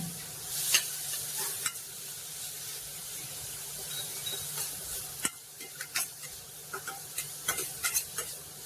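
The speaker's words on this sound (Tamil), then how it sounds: "பீன்ஸு வெங்காயம் பூண்டு கேரட்டு சேர்த்துட்டு நல்லா வதக்கிக்கோங்க" Beans, onion, garlic and carrot sautéing in a pan for ragi soup, giving a soft continuous sizzle with a spoon scraping and stirring nearby, the stirring strokes growing busier and more rhythmic toward the end.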